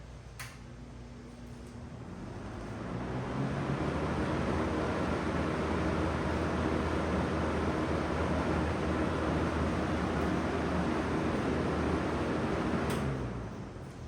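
A Lakewood S-223 electric fan running on high setting: a steady broadband whoosh of moving air that swells up after startup, holds evenly and loud, then begins to fade at the end, with no talk.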